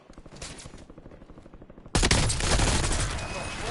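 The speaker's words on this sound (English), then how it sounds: "Taking effective fire" Gunfire erupts in the video game Warzone: a few quieter shots at first, then a sudden, loud sustained burst of rapid automatic fire.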